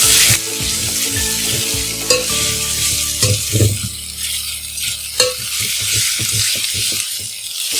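Turmeric powder is stirred into chicken curry in a hot pan, with a spoon scraping and knocking against the metal in irregular strokes over a constant sizzle of frying, close and fairly loud.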